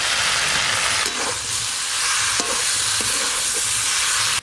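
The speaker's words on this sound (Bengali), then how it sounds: "সব কিছু সবজি ভালো করে একটু ভাজা ভাজা হয়ে গেছে এবার সর্ষে আর শুকনো লঙ্কা বাটা আছে দিয়ে দেবো" Mixed winter vegetables fry in a pan with mustard and dried chilli paste, giving a loud, steady, close sizzle and hiss with a few faint stirring knocks.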